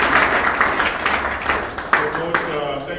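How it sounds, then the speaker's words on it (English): Group applause for a coach at a training session, a dense wash of many hands clapping at close range, steady for a few seconds with a handful of sharper individual claps standing out near the end. "Guys, I want to give you a round of applause"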